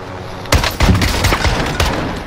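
Shotgun blasts in a first-person shooter video game, several loud booming shots in quick succession with a few seconds of sustained firing, heard up close with no talk.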